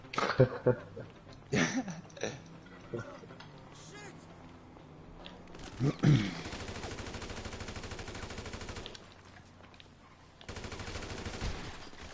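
Gunfire in the video game GTA 5 Online: a few sharp shots early, then long rapid bursts of automatic fire, fairly loud, with players talking over the action at times.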